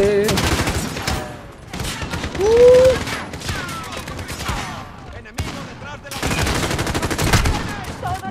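Gunfire in a Call of Duty Modern Warfare campaign mission, bursts of shots spread across the clip amid game sounds, with a brief tonal whine in the middle.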